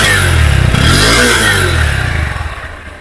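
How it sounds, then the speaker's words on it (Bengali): A Honda Hornet 2.0 motorcycle exhaust revs hard close by, the engine note climbing and falling in a loud, throaty sweep before settling back and fading slightly toward the end. "এরপর এক্সজস্টের সাউন্ডটা যদি একটু দেখি"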